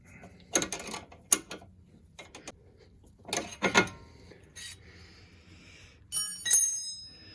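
A millimetre wrench tightens a sway bar link nut during a suspension repair, producing several short bursts of metallic ratcheting clicks and clanks separated by quiet gaps, close by with no talking.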